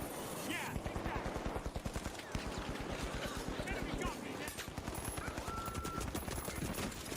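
Rapid automatic turret gunfire in the video game ARC Raiders, a steady stream of sharp close shots that runs almost the whole time, with a player talking over it.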